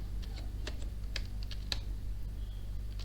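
HTML code typed on a computer keyboard into Notepad, a quiet run of irregular key clicks with short pauses over a low steady hum, no voices.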